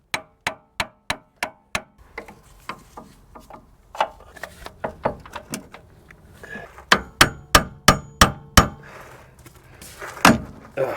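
A hammer taps on a ball joint on a 2007-2013 Chevy Silverado or Tahoe truck: a run of about six sharp, evenly spaced metallic blows, then scattered knocks and another quick burst, close and loud, with no voices.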